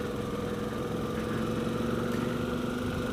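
A 2016 Motus MST motorcycle's engine drones steadily and fairly close, an even, throbbing hum with no clear change in pitch.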